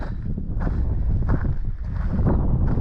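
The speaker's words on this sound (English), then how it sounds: "The wind's picking up." Strong wind gusting outdoors in the old ghost town of Bodie, with steady low rumbling buffeting a nearby microphone and swelling in several bursts throughout.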